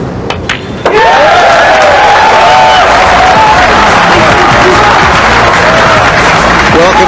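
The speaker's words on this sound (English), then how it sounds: "I think you're going to hear a huge cheer of relief when this 9-ball drops" A sharp knock opens, then a big crowd roars into loud cheering and applause at the World 9-ball Pool Championship 2007 as the 9-ball drops, the cheer holding steady and dense to the end.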